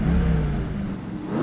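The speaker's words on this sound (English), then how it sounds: "Randy, can you rev up your car?" Mustang engine revving at a Mustang drag race gathering, a steady loud mechanical roar that swells near the end of the short burst.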